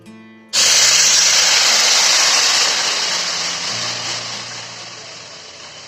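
Soaked jaggery water strained into a wok over a lit gas stove bursts into a loud, steady rushing hiss after a short quiet start, then slowly eases off while it keeps going.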